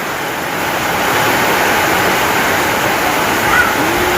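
Heavy rain and wind on a stormy morning with flooding in front of a house, a loud, continuous rushing roar that swells slightly and holds steady.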